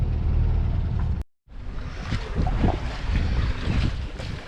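Wind buffeting the microphone aboard a sailboat at sea, a loud low rumble with a brief dropout, then gusty roar over water and waves continuing.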